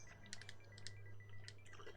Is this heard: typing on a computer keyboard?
yes